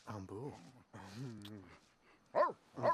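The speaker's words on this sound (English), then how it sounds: "I wish those dogs would shut up." Dogs barking in The Sims 3 video game, a pair of sharp, loud barks near the end following a stretch of harmonic whining or vocal sounds, set against a busy household game background.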